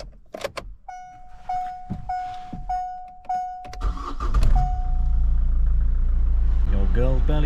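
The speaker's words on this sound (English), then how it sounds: "Let's try it with the engine and the ignition." Keys clink and an old Vauxhall's ignition chimes repeatedly, then the engine cranks and catches, settling into a steady low idle.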